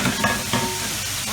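Corn and sausages stirred in a frying pan, a steady close sizzle with a few soft scraping strokes of the spoon, no voices.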